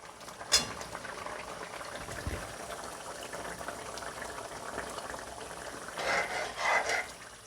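Potatoes boiling in a pan of water for paneer posto makhani, a soft bubbling simmer with a sharp clink near the start and louder bursts of bubbling toward the end.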